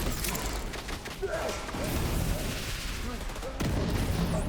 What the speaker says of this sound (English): I'm gonna use my shotguns here.